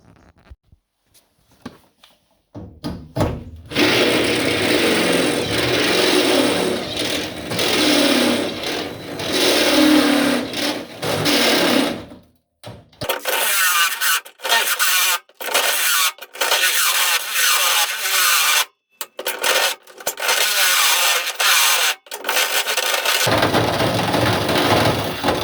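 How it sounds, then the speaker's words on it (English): A power drill bores into a washing machine during a DIY modification, running in one long buzzing burst and then a series of short, stop-start bursts close up, alone without talk. "So I'm going to drill there, see what happens."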